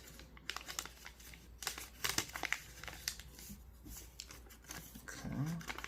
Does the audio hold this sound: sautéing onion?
no